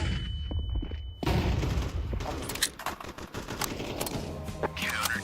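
Dense gunfire, booms and thuds fill a Counter-Strike 2 match after a flashbang grenade is thrown, with the grenade's burst lost among close, rapid shots, and voices talking over the action.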